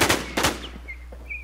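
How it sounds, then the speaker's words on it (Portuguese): Bursts of gunfire from a multiplayer video game shooter, two loud closely spaced volleys near the start followed by fainter scattered shots and game sounds. "a Imitar tá errando todos os tiros"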